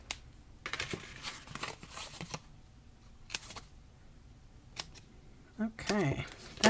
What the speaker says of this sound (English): I don't tear it, I cut it, and it makes my scissors sticky.